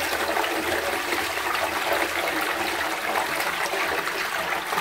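A hospital toilet flushes with a loud, close, steady rush of water that holds at an even level for several seconds without pausing, and no voices are heard.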